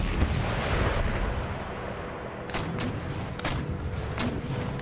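Cannon fire in Empire Total War during an Ottoman Empire battle: heavy, rumbling volleys of booms, with sharper blasts punching through in the second half.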